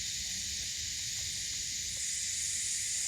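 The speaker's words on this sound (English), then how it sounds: "the insects are really loud" Loud insects fill the air at Coombabha Lake on the Gold Coast, a dense, steady high hiss holding without a break.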